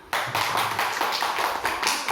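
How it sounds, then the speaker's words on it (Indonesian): Dense, steady clapping from a class group, continuous for a couple of seconds after an abrupt start, with no voices on top. "Oke, tepuk tangan."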